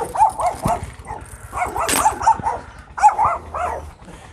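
Dog barking during a training session, a quick run of sharp barks and yips with some whimpering, close and loud, with no talk.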